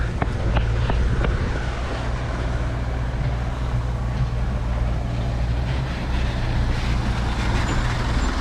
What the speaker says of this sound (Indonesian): di sini aku menggunakan bus Damri Bandara